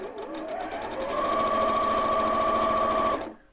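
A sewing machine stitching a quarter-inch quilt seam, a close, steady mechanical whir that speeds into a fast even hum, then stops abruptly.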